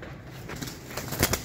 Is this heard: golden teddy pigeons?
yes